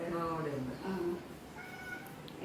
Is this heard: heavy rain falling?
no